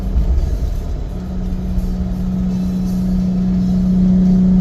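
A truck engine held at about half throttle, around 4,000 RPM, towing a teardrop trailer; a loud, steady droning hum that builds slightly and stays constant, with no talk over it.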